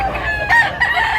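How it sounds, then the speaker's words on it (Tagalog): Chickens and roosters at a poultry market in Tabunok, Cebu, crowing and clucking close by in short overlapping bursts over a busy background. "pero napakaraming manok mga idol"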